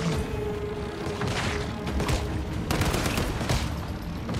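Gunfire in the video game Once Human rattles in dense bursts during a lab boss fight, loud and continuous with sharp cracks and impacts layered together.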